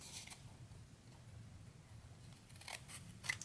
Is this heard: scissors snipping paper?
yes